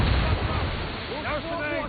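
Ship cannons fire in a naval battle in Assassin's Creed Rogue, a heavy, continuous booming rumble with low-end roar, while voices shout over it.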